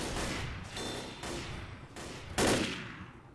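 Gunfire in Left 4 Dead comes as a rapid string of loud shots, roughly five or six heavy bursts with short decays. The last one is the strongest.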